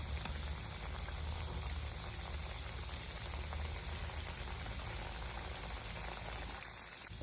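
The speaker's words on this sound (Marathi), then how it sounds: "बघा अशा पद्धतीने तेलात सोडून घेणार आहे" Shankarpali dough pieces sizzle steadily in hot oil over a low flame, a dense, even bubbling hiss that holds at close range for the whole stretch with no voices.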